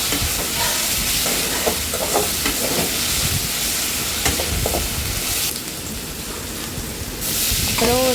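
Ginger garlic paste stirred and fried in a pan for chicken gravy, a steady sizzle with scraping stir strokes throughout, fairly loud and close, no voices.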